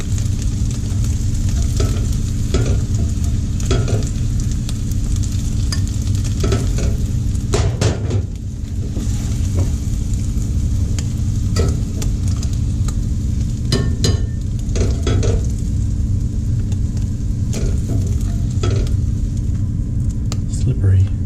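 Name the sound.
scooping eggs and quinoa out of a frying pan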